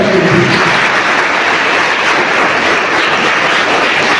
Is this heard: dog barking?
no